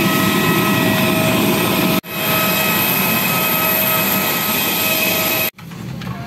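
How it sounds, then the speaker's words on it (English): Steady, loud airplane cabin engine roar in flight, a broad droning hum with constant tonal whine that cuts out abruptly twice, as on a flight to Malang. "we are in the plane"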